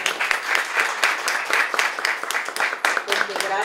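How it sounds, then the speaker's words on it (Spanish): Audience applause at a beauty continuing-education event in Boston, a dense wash of clapping lasting several seconds with some voices mixed in beneath it. "Otro aplauso para él."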